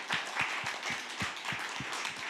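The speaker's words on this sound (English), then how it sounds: "So a round of applause for the people that spoke," Audience applause closing a session at a CERN co-creation brainstorming event, a sparse group clapping in a quick, fairly even rhythm, moderately close.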